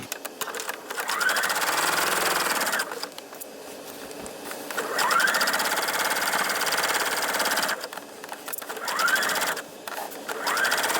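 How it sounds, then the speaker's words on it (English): A sewing machine stitches faux cording along the edge of a pillow in steady bursts of rapid mechanical whirring, pausing briefly between runs, close and fairly loud with no voices. "And I am sewing right here."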